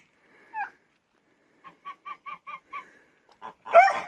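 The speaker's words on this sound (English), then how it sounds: "Where are the turkeys?" Turkeys calling, a quick run of about six evenly spaced rattling gobble notes after an isolated call, then louder bursts at the end, near and clear against silence.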